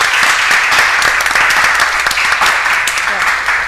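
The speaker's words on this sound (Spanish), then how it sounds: "Un aplauso por acá." Dense, steady applause from an audience at the close of a trade and agriculture conference session, continuous and fairly loud with a few sharper individual claps standing out.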